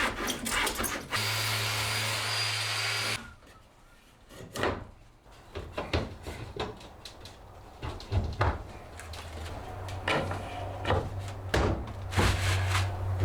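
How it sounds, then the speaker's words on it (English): A cold frame support end is trimmed about three-quarters of an inch beyond a bolt: a loud, steady buzzing cut runs for about two seconds, then scattered knocks and handling clatter follow. "So now the last thing I need to do to finish this side up is trim the end of this support about 3/4 of an inch"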